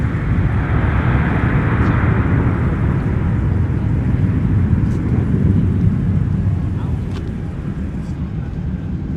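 Airliner taking off at snowy MSP airport in winter, a steady broad roar of jet engines rumbling loud and constant throughout, with a faint radio chatter voice underneath.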